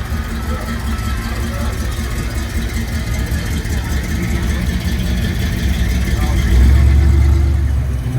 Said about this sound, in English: Here's a nice little Mustang here in green, light green. That sounds good.